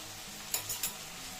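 Tomato, ginger and garlic sizzle in a pan, a quiet low frying hiss broken by two quick scraping stir strokes in a brief burst.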